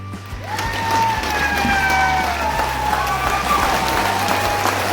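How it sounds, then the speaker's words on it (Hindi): A large standing audience at a zonal celebration event in Guwahati claps loudly and steadily, a dense wash of applause with a low hum and tonal music or feedback underneath. "तो एक शानदार ताली टीसी सर के लिए, खड़े होके।"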